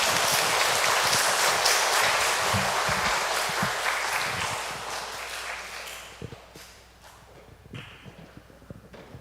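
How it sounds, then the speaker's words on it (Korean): Congregation applauding the priest at a children's Mass, a dense burst of many hands clapping in a church that gradually thins and fades, with a few scattered late claps near the end. "신부님께 큰 박수 부탁드립니다."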